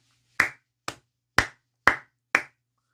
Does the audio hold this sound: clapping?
yes